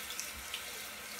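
Water runs steadily from a bathroom sink tap while a man rinses off during a wet shave, a continuous close splashing stream with no talking.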